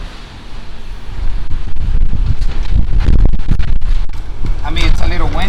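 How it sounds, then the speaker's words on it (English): Wind buffets the microphone in low gusty rumbles while a person talks nearby. "it's a little windy"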